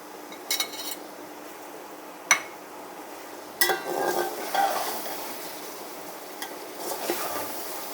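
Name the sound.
frying and stirring tomatoes with garlic and ginger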